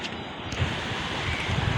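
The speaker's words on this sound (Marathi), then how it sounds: "एवढा वारा हे बघा ती हवा आहे" Strong wind roars steadily across the whole moment, a broad rushing noise buffeting the microphone with low gusty rumbles.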